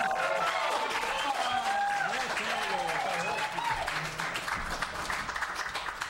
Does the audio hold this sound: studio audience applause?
yes